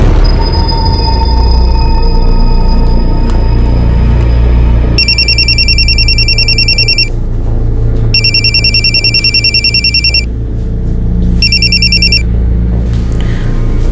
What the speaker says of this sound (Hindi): नरेश सर का फोन आया था।